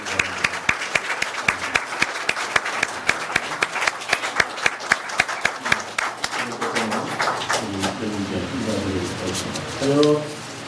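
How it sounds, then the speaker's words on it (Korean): A church congregation claps during an ordination service, sharp individual claps at first that thicken into applause before fading, after which a voice speaks. "네, 다시 한번 큰 박수로"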